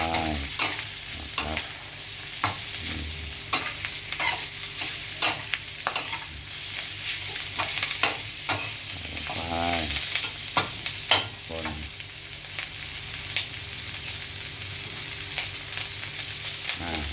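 Wood ear mushrooms stir-fried in a hot pan, a steady sizzle under repeated scraping strokes of the spatula, close and continuous with no voices.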